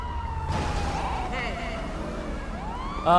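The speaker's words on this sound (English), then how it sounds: "let's shut off this siren here" A police Chevy Tahoe siren wails in modded GTA 5 LSPDFR gameplay, a steady up-and-down electronic sweep that runs continuously at moderate loudness, with a sharper burst near the end.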